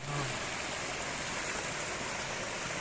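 Water flows from a spring near a waterfall, a faint, steady broadband rush like a stream heard at a distance, continuous and even with no voices.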